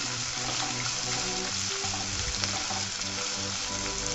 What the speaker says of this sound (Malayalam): കരിവേപ്പിലയും അതൊന്ന് മൂക്കുകയാണ്.